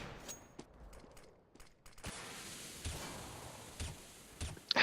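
Gunfire crackles in a Counter-Strike esports match, a scattering of sharp, faint single shots at irregular intervals over a low background bed, growing busier in the second half.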